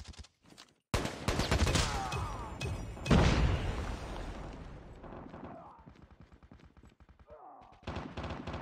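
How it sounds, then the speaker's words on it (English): Grenade blast and bursts of rapid gunfire in the mobile shooter game COD Mobile, a sharp boom followed by rattling automatic fire that fades, then renewed shots near the end, with in-game voice callouts between. "Grenade out!"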